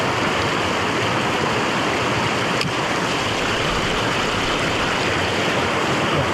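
A river flows in a loud, constant, broad rush of water up close, with no talking over it.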